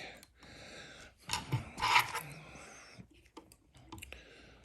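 Small scissors snip tying thread while a Zug Bug fly is tied at a vise: two quick, close cuts in the middle, with light handling clicks and rustles around them in an otherwise quiet room.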